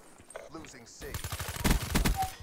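Rapid automatic gunfire in a Call of Duty match on the Nuketown map, a loud burst of dense repeated shots filling the second half after quieter game sounds, with a voice briefly talking over the action.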